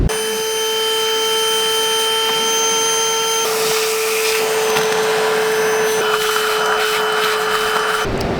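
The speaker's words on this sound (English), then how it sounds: "I'm going to hoover it up and give it a scrub in various ways." A hoover runs steadily and loudly at close range while a boat is cleaned in a boatyard, with a constant whining drone that shifts slightly in tone partway through and then stops abruptly near the end.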